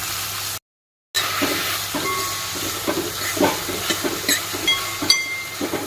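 Finely chopped onion and tomato fry for dal with ginger-garlic paste, giving a continuous sizzling hiss broken by scattered crackles and stirring clicks. A short gap of silence comes near the start.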